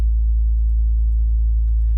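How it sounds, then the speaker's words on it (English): A loud, steady low sine-wave tone from a Massive software synthesizer with position modulation, holding constant for two seconds with no other sound. "we're going to put it on the lower sine wave, and as we turn the pitch up, you'll see it move through the velocity change and get slightly louder"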